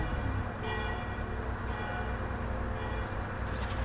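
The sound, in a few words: constant church bell noise in OMSI 2 bus simulator game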